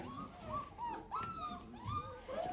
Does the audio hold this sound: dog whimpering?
yes